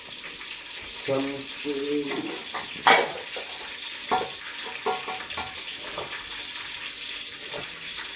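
Constant hiss of curry leaves and spices sizzling in hot oil for tempering, interrupted by a few stirring clinks and a short burst of speech.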